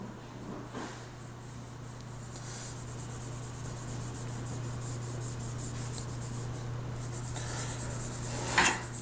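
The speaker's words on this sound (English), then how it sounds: "and start to work this into the paper" A paper towel blending tool rubs steadily across drawing paper, a close, continuous soft scrubbing and swishing with a low hum beneath and a slightly louder stroke near the end.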